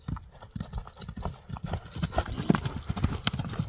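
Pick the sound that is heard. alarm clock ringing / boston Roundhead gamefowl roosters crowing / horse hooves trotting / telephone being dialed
horse hooves trotting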